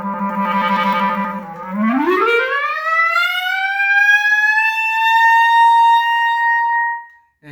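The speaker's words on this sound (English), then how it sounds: "You can also do a thing called the glissando" A clarinet glissando sweeps smoothly upward from a low trill-like passage to a high held note, a continuous rising slide that is loud and close, played alone before cutting off.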